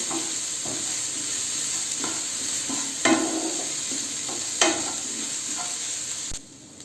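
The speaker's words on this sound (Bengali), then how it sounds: "ভালো করে আমি মিশিয়ে নিয়েছি।" Chicken soup ingredients stirred and mixed in a pot, a steady scraping churn with a soft sizzling bed and a few louder knocks of the spoon, close and alone with no voices.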